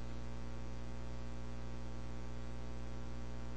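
A steady, unchanging low electronic drone from an Invader Zim episode soundtrack, a dense sustained hum-like tone with no rhythm or breaks, moderately quiet throughout.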